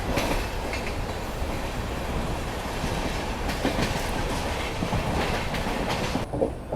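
A train runs into New Tinsukia Junction railway station with a steady rumble of wheels and clattering carriages, loud and continuous throughout, with no talk.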